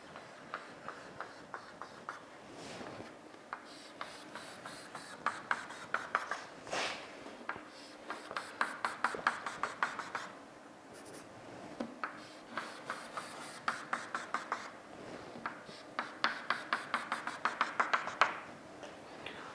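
Pen writing and drawing lines on paper for a shear force diagram, bursts of rapid close scratching strokes and short scribbles with pauses between, quiet and without speech.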